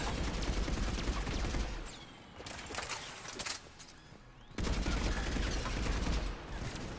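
Rapid bursts of gunfire aimed at Geth in Mass Effect 3, loud sustained volleys that drop away briefly mid-clip and then resume at full intensity, with no talk.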